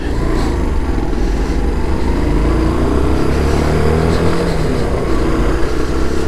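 A 125cc motorcycle climbing a hill on a twisty country road, a loud, sustained engine drone mixed with rushing wind noise, close to the microphone and holding steady without speech.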